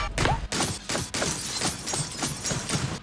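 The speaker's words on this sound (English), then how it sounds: "Every time a gun shoots, it produces a powerful, thunderous boom." Guns fire in the shooter game Receiver 2 as a rapid series of sharp, punchy bangs, about a dozen in quick succession with short decaying tails between shots.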